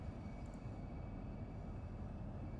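Steady, low rumbling drone of a Southeastern high-speed train in Train Sim World 2 under full throttle, even and unbroken with no voices.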